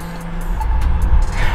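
A car drives past on the street nearby, its engine rumble swelling louder over about a second and a half, with no talking.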